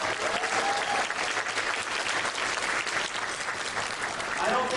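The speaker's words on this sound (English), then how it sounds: "How about a big round of applause, and I mean big, for Christy and Chris" Sustained applause from a gala audience at the 2014 KCC event, dense and steady throughout at full strength, with faint voices mixed into the clapping.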